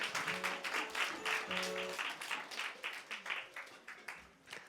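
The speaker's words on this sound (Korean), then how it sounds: "한번 우리 천사들한테 박수하겠습니다." Church congregation applauding during a Christmas service, a steady wash of clapping for several seconds with a few voices mixed in, moderately distant and fading slightly toward the end.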